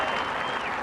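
Broad, distant applause from huge crowds outside watching on screens, spreading in to guests inside, steady and wash-like in a brief burst.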